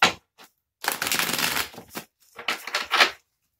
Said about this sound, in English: I'm going to go ahead and shuffle the Lavish Earth cards to give y'all a couple messages